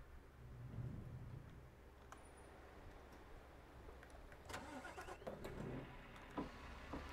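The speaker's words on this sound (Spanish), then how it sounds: "A ver, escuchemos ese motor V8." V8 truck engine starting in Euro Truck Simulator 2, a fairly quiet low rumble that builds, with a few sharp mechanical clicks and bumps as it turns over and settles.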